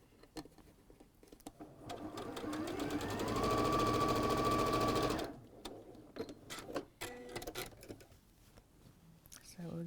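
A sewing machine stitches the side seams of a fabric pouch, its motor whirring up into a steady fast rattle for a couple of seconds before stopping, with soft voices and handling clicks around it.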